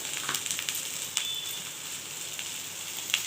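Pointed gourd and potato pieces fry in oil with nigella seeds and poppy seeds, giving a steady soft sizzle with a few sharp crackles and pops, close and fairly quiet.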